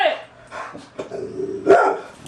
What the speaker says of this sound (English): They hear one noise outside and they start barking.